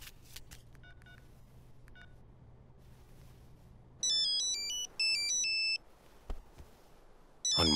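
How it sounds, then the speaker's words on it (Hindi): A phone ringtone in a film plays in short melodic bursts of electronic tones, bright and clear over a quiet background hum. "हनुमंता का फोन, बात कर।"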